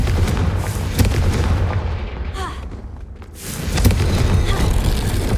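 Confringo fire spell blasting in Hogwarts Legacy, heavy booming explosions with a rumbling low end, loud and close, easing briefly before another burst.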